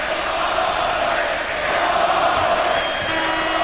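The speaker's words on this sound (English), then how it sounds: "the crowd is not appreciative of the call" A large arena crowd at a 2003 NBA playoff basketball game between the Pacers and Celtics sends up a sustained, loud roar of disapproval at a referee's call, a continuous wash of voices with no break.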